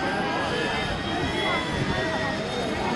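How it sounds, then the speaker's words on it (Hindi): A continuous, droning engine roar with a high whine above it, loud and steady throughout, like a helicopter running nearby at an election campaign event in Chhabra, India. "भैया हेलीकॉप्टर देख लो"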